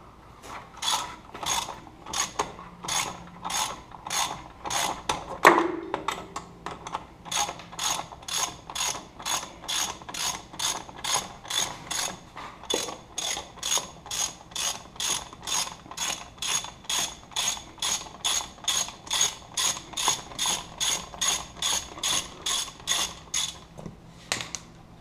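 A hand ratchet loosens a bolt during a Polaris RZR belt change, giving a long run of steady, evenly spaced clicking strokes, close and crisp, with no talk over it.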